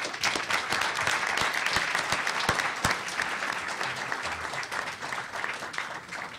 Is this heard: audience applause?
yes